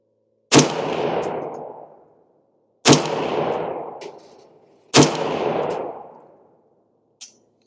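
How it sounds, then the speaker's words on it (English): Three loud, sharp rifle shots spaced about two seconds apart, each with a long decaying echo, fired from a rifle with a 13.9-inch barrel and red dot at a 50-yard target; a faint click follows. "let's shoot a group down using the red dot here at 50 yards"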